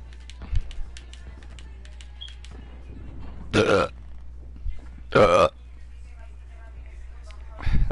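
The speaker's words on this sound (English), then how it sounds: "That's not me burping." A man burps loudly twice in the background during a casual gaming stream, two separate belches standing out from low talk and faint clicking.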